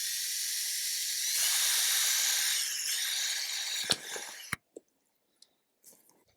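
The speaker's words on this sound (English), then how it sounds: "we'll also drill some holes in the bottom" A drill bores holes in the bottom of a container of salt paste deer attractant, a loud, steady high-pitched whine for several seconds that stops abruptly, followed by a few faint clicks and taps.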